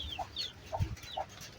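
A hen clucks with her chicks, short soft clucks and faint peeping arriving in a loose rhythm close by, with a low thump partway through.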